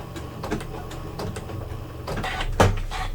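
A Janome sewing machine stitches a locking stitch on quilt binding, a quick rapid mechanical rattle of the needle with a louder clunk near the end, close up and without talk.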